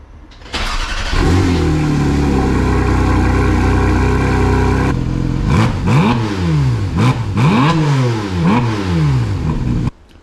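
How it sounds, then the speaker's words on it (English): A Porsche GT4 RS engine cold starts, cranking and catching, settling into a steady loud idle, then rises and falls through several quick revs before cutting off. "before I put the exhaust on, I guess I'll do a cold start"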